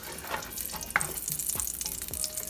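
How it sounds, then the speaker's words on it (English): Vegetables sauteing in coconut oil in a pot give a soft, constant sizzle up close, with a few light clinks of stirring and no talking. "what I'm going to be doing is sauteing, putting some more coconut oil, a little bit more coconut oil in the pot"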